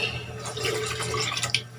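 A small amount of water poured into a pot of monggo mung bean stew with dried fish, heard as soft trickling and dripping that ends in a brief splash, with no talking.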